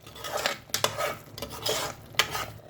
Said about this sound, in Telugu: ఇప్పుడు ఇది ఒక 2 మినిట్స్ ఫ్రై కానీ.